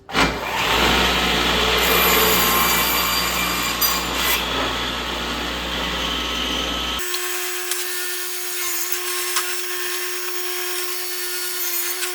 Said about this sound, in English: We're going to cut them all to the same length.